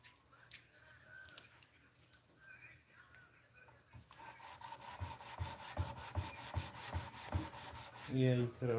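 Wood is sanded by hand with fine 800 grit sandpaper, a soft rasping rub that starts faint and becomes a quicker, louder back-and-forth stroke rhythm in the second half.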